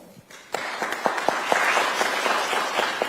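After a brief quiet moment, an audience at a forum on Chinese freedom and US-Taiwan security breaks into steady applause for the panelists, a dense wash of clapping that holds to the end.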